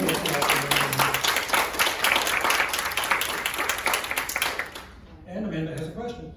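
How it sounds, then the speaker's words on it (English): An audience at a town hall meeting gives a round of applause, dense steady clapping for about five seconds before it fades and a voice begins speaking. "Okay, so round of applause."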